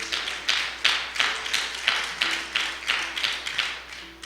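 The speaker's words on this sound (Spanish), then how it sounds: "Dale un aplauso fuerte al Señor." Congregation clapping in a church service, a steady rhythmic beat of hands at about two claps per second, moderately loud and with no talking over it.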